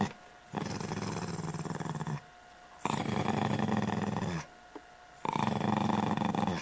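A dog growls in three long, rumbling bursts separated by short pauses, close and moderately loud.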